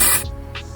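Brown dry shampoo sprays onto a synthetic lace wig in one short close hissing burst that fades quickly, followed by faint soft puffs.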